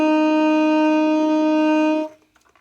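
A single sustained alto saxophone note, C, steady and clear for about two seconds, then released into silence.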